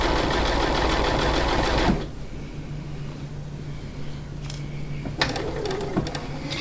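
A domestic sewing machine quilting stitches on fabric whirs loudly for about two seconds, stops, then quieter motor hum and short bursts of stitching resume near the end, all close up.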